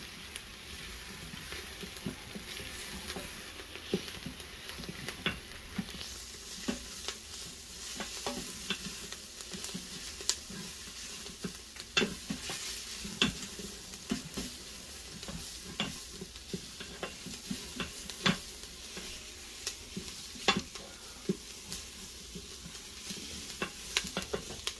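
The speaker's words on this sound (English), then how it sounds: "I'll saute that for about 30 seconds" Ingredients for a Mexican chicken soup sauté in an Instant Pot, giving a soft, steady sizzle broken by frequent light clicks and scrapes of stirring, close but quiet, with no talking.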